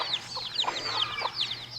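Backyard hens with small chicks make soft repeated clucks, overlaid with rapid high-pitched peeping chirps, close and moderately loud against a faint low hum.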